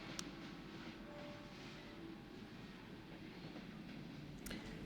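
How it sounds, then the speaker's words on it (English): A train moving along, a steady low rumble and rolling hum without break, fairly faint and distant, with a couple of brief sharp clicks at the start and end. "The train moved on"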